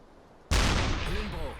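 U-boat deck gun firing in the submarine game Uboat, a single sudden loud blast that rolls off into a long booming decay, with a voice faintly heard in the tail.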